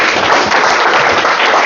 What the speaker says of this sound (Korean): 박수로 박사님 모시겠습니다